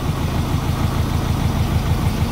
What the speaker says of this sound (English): We've got the engine on. That's the horrible noise.